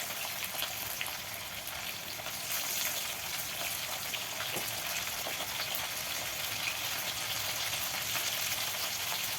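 Chopped green chillies fry in a pan with potatoes for a vegetarian dish, giving a steady, dense sizzle and crackle that stays loud and even from start to finish with no voices over it.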